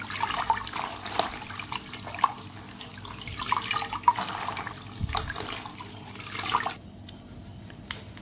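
Kunjer saag, wild greens, rinsed under running water for an Odia recipe; a steady, close splash and trickle with occasional drips and handling sounds, easing off near the end.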